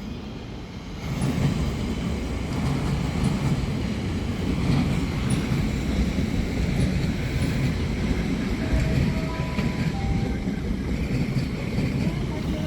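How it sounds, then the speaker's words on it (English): Elizabeth line train, class 345, pulling into the platform at Reading station as it terminates, a steady loud rumble and rushing noise that swells after the first second and holds, with faint squeal tones late on. "Now arriving is Elizabeth line, which is terminating here"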